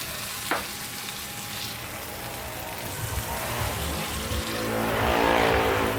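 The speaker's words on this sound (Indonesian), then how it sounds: "Tumis lebih kurang selama 10 menit. Sambil sekali-kali diaduk hingga bumbunya menyerap dan tercampur rata ya." Cut pieces of meat sauté in spices and lemongrass for a Padang-style gulai korma, a continuous crackling sizzle that swells louder toward the end, with no voices.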